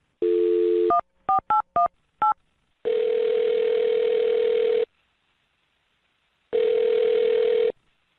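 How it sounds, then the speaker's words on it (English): A landline telephone gives a steady dial tone, then a quick run of five or six touch-tone dialing beeps, followed by two long ringback tones separated by silence, clear and close with no voices. "I'm going to dial his phone number right now"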